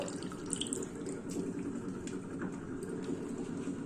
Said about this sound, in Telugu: మళ్ళీ ఇంకొకసారి వాటర్ వేసి మళ్ళీ కడిగి మళ్ళీ పిండుతున్నానండి